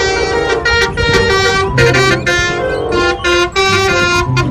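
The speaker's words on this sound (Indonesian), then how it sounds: "Mobil bus telolet." A toy telolet bus horn plays a loud, bright, musical melody of sustained tones that shift pitch in short phrases, ringing steadily throughout.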